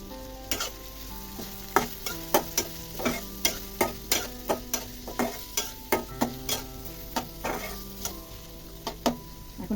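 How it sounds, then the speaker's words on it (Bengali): Whole cumin, sliced onions and bay leaves frying in hot oil in a pan, a steady soft sizzle broken by repeated sharp clinks and scrapes of a spoon stirring, close and clear, no voices. "এখন একটু হালকা লাল করে ভেজে নেব।"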